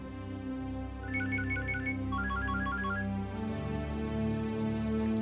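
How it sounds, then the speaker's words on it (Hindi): A mobile phone ringtone in the Hindi TV drama Apne Mere Apne plays a short repeating melodic chime, loud and near, layered over a steady bed of background music. "अचानक मोबाइल की घंटी बजी"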